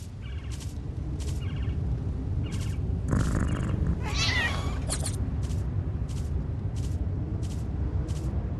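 A cat in the Postal 4 video game lets out a drawn-out, wavering meow over steady rumbling game ambience, while short repeated beeping tones pulse throughout.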